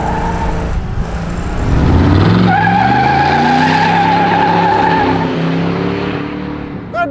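A 1969 Camaro Z28 RS spins donuts, its engine roaring up close while the tires squeal loudly in long, rising and falling wails for several seconds before fading out.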